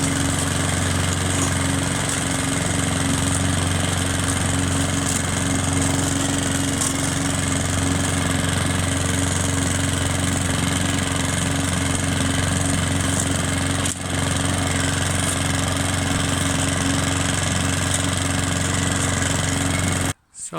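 A rotary push lawn mower's small engine runs steadily and loudly up close, a constant humming drone with whirring blades, cutting off abruptly at the very end.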